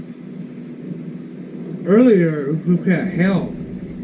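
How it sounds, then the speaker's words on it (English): Steady rain from an evening thunderstorm hisses in the background while a person talks briefly over it, with no clear thunderclap standing out. "Outside today is raining, a thunderstorm right now."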